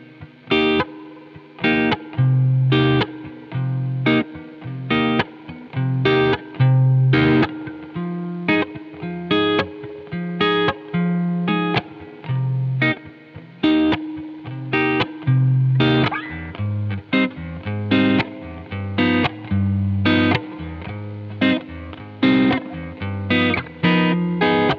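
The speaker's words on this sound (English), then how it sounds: "let me just play the chords again just so it's in your head" Electric guitar with effects and distortion plays a chord progression alone, strummed chords ringing steadily in a repeating rhythmic pattern, close and fairly loud, with no backing track, from a lesson on improvising over a jam track.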